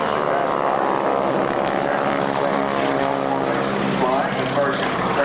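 Vintage biplanes at an airshow, among them a Curtiss Jenny with an OX-5 engine, flying with wing walkers on swiveling rigs; a loud, steady propeller-engine drone fills the whole stretch, with a voice talking over it.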